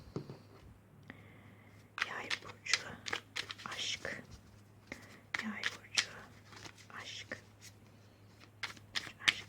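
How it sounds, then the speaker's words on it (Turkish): Tarot cards shuffled by hand, with soft papery riffles and slaps in irregular bursts close by, under quiet whispering and speech. "dileyenler bu kart karıştırma aşamasını ileri sarabilir"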